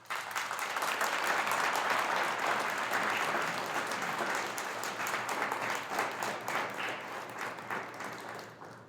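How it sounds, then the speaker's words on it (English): Graduates applaud themselves at the OSUIT Spring 2021 graduation ceremony, a broad, sustained wash of many hands clapping in a large space, moderately loud and steady before thinning slightly toward the end. "give yourself another round of applause."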